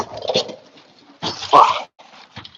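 Birds calling outdoors, a few short cooing and chirping bursts with gaps between them, fairly close and moderately loud, with no talk.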